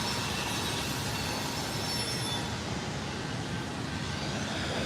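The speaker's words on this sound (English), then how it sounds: "Drowned out by a freaking train like this either." A train rolls past continuously and loudly, a dense broadband roar with faint high wheel squeal near the start, filling the whole stretch without letup.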